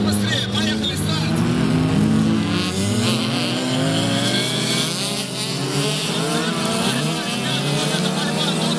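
Several VAZ-2108 autocross race cars roar away from the start of a heat. Their engines rev hard and climb in pitch together, loud and close, while a commentator talks over the noise.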